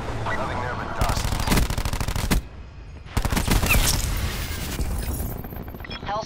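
Sustained machine gun fire from an aircraft gunship in a video game, two long dense bursts of rapid rounds, loud and close, with a short gap between them and booming impacts underneath.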